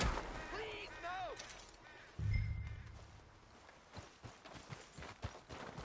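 A horse gallops in Red Dead Redemption 2 with rhythmic clip-clop hoofbeats that grow steadier and more distinct toward the end. A voice and game dialogue come before, along with a heavy thump.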